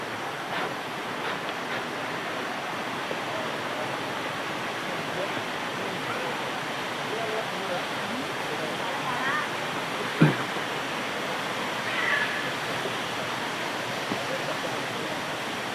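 A mountain waterfall at Rejenu on Mount Muria roars in a steady, broad wash of falling water, with faint voices and a brief knock partly buried beneath.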